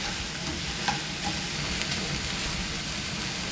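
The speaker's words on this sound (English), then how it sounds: "Give this a little stir." Chili peppers sizzle and fry in a pan, a dense, steady hiss filling the whole moment, with a few soft stirring scrapes on top and no talking.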